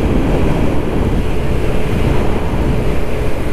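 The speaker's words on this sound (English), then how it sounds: "the wind was quite well blowing at us" Wind buffeting the microphone while riding a Kymco Agility 50 scooter in autumn, a loud continuous rumbling roar with constant gusting flutter, no talking.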